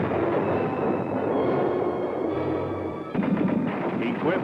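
An M-60 Patton tank fires its 105mm cannon: a sharp heavy blast lands near the end of a steady rumbling engine and track noise, loud and close.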